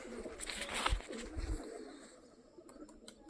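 Young play pigeons coo softly at close range in a few low, rounded calls, with light fluttering rustle and a couple of faint chirps toward the end.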